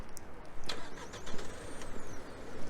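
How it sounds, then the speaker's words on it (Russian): A Geely Coolray engine started by remote start turns over and settles into a steady idle, heard close and fairly loud amid a few clicks and mechanical noises. "Давайте мы запустим с вами двигатель. Запускаем двигатель с помощью долгого нажатия."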